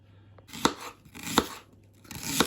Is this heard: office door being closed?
no